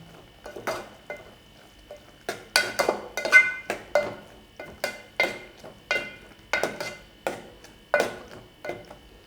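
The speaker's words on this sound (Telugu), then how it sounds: "ఒకసారి కలుపుకుందాం." Tomato curry (tomato rubbu) being stirred in a cooking pot: a steady run of close scraping, clinking spoon strokes in uneven rhythmic bursts, with no talking.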